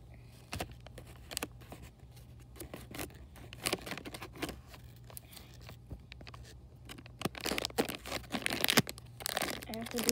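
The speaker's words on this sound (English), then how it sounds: "Some scissors." Scissors snip and crinkle through paper or packaging during a banana splits anniversary celebration, a quiet irregular series of cuts and rustles in a room, growing busier toward the end.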